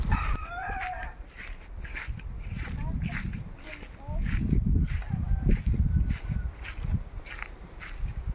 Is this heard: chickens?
yes